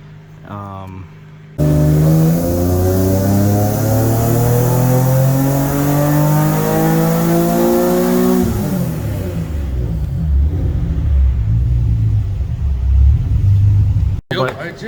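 A tuned turbocharged Nissan 350Z HR engine revs hard up through repeated rising sweeps, loud and close, then drops to a lower rumble; a voice is heard briefly at the start.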